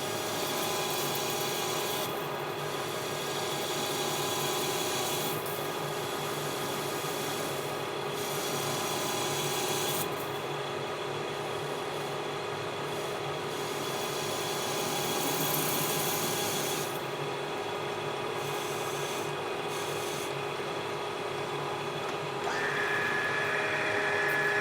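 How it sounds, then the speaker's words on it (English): A lathe cuts a precision steel shaft with a round insert, a continuous grinding, rasping cut with a steady machine drone that holds for nearly half a minute, close and loud with small shifts in tone, no talking. "I'm going to come in with my round insert and just put a nice big radius in here"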